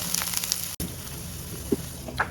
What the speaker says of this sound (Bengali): একটু হালকা তেল একটু ভেজে তারপরে হচ্ছে নামাতে হবে